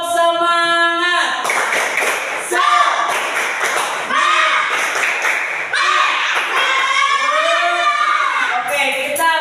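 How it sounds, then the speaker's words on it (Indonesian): An Indonesian school class performs a rhythmic spirit clap in patterned bursts of hand claps, with voices chanting along throughout, loud and close in the classroom. "Kita tepuk semangat dulu ya. Tepuk semangat."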